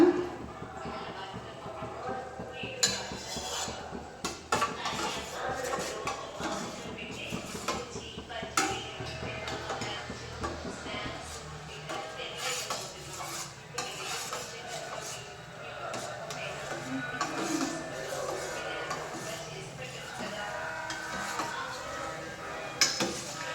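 A spoon knocks and scrapes around a pot of homemade beetroot soap mixture just after juice is added, in irregular clinks and scrapes under continuous talking.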